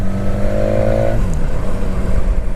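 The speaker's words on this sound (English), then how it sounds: "I think that's more induction noise" Engine note from a 2019 BMW S1000XR motorcycle, a steady loud drone with a sustained tone that shifts pitch partway through, no voices over it.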